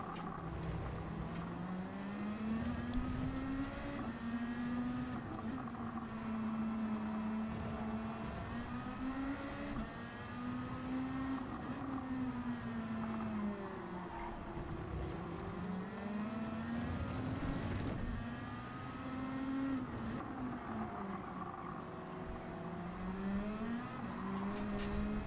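Race car engines in the Gran Turismo 7 driving game, a continuous close engine drone rising and falling in pitch through repeated gear shifts and revving, with no talking.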